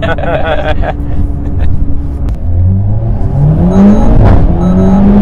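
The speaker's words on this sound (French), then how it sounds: "Le son il est vraiment vraiment sympa. Hein, Ouais, de cet échappement" A car with an Evox ValveTronic exhaust silencer and Gruppe M intake accelerates, its engine note climbing in loud, close rising sweeps after a brief voice at the start.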